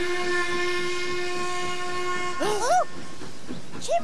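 A steam train whistle sounds alone: a long steady multi-toned blast, then a brief hissing burst with a few swooping tones and a short final toot, fairly close.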